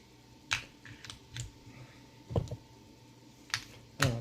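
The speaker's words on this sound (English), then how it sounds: "Now let's put the batteries back in it." Batteries clicked back into a Wismec RX200 vape mod: several sharp plastic clicks and taps, one strong near click around the middle and another at the end, with quiet gaps between.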